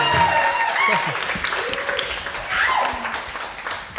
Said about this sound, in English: Let's give her another round of applause there.